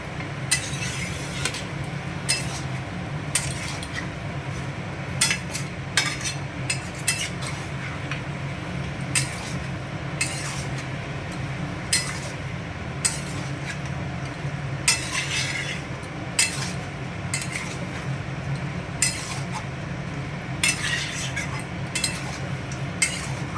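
A spoon repeatedly scrapes and clinks against a pot as mutton curry (khasir mangsher jhol) is stirred, the irregular metallic taps sounding over a soft steady background.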